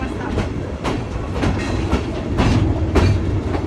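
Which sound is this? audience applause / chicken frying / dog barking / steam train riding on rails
steam train riding on rails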